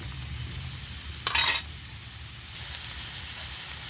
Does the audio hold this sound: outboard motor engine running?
no